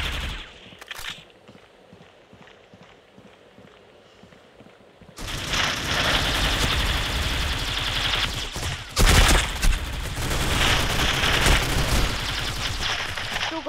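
Rapid automatic gunfire in the mobile shooter Critical Ops: quiet game ambience first, then loud, sustained bursts of shots filling the second half, with a sharper volley near the middle.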